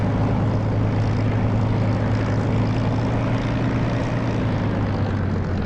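Steady, loud drone of a Spitfire's piston engine and propeller in the DCS flight simulator, a constant throttled-up rumble while taxiing, with no talking.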